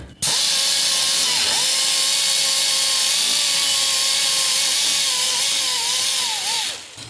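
A power tool fitted with a Scotch-Brite pad polishes a part of a Murray 24-inch 8 hp snowblower. It gives a loud, steady, high whine that runs close and unbroken for about seven seconds, with small pitch wobbles as the pad presses on the metal.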